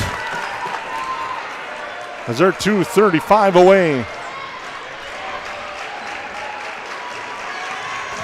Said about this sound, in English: Now the Yellow Jacket fans rise up and applaud the effort